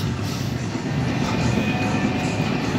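A loud, continuous rumbling roar of a roller coaster train passing close by at Kings Island amusement park, steady throughout with no talk.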